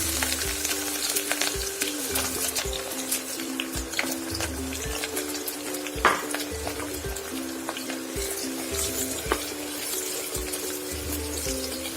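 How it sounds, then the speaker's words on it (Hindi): Steady crackling sizzle of onions frying in hot refined oil in a pressure cooker, continuous and close, with a low hum and occasional stirring clinks underneath. "हमने दूसरे कुकर में 100 ग्राम के करीब रिफाइंड ऑयल गरम कर लिया है। इसमें हम आधी प्याज डाल देंगे।"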